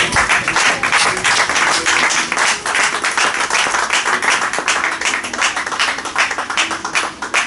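A church conference audience applauds to welcome a pastor, with dense, loud and continuous clapping filling the hall from start to finish.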